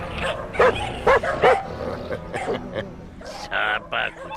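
Several dogs bark in short, loud yapping bursts, some overlapping, with a few whimpers, mixed under voices talking in the background.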